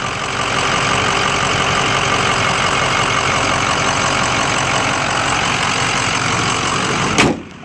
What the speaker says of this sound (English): Truck runs perfect. No blow by in the engine.